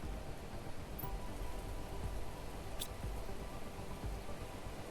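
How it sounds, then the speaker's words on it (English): Rain in the survival video game Planet Crafter, a constant soft hiss of falling drops with a couple of faint higher ticks, steady and unbroken. "So now it's raining."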